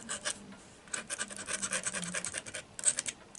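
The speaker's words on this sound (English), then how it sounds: "So just by taking a little bit of an X-Acto knife," An X-Acto knife scrapes across watercolour paper in quick, rasping strokes, a close dry scratching in short bursts with brief pauses, with no voices.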